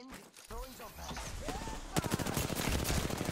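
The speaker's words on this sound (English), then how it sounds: "we're getting shot from behind" Rapid automatic gunfire in the Apex Legends shooter game, a dense burst of loud cracking shots that starts partway in and keeps going, with player voices talking over the start.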